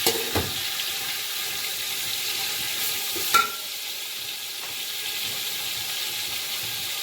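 Marinated chicken sizzles in a hot pan while being stirred, a steady frying hiss broken by a few scraping knocks of the spoon against the pan.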